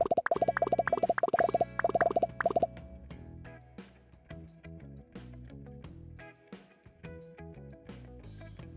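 Pesto mixture simmering in a pan gives a quick run of loud, close bubbling plops for a few seconds, then gives way to a steadier background of other sounds.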